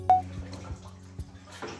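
Water with a little phenyl is poured into a bucket for mopping a floor, making a few soft splashes and drips close by, alone and fairly quiet.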